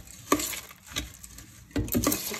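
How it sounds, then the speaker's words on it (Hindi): Puffed rice for Mumbai-style bhel puri is tossed with a spice mix, making a few soft, crisp rustling swishes and light knocks against the bowl, close by and without talk. "इसमें ऐड करेंगे हम मुरमुरे, और इसे अच्छे से मिक्स करेंगे"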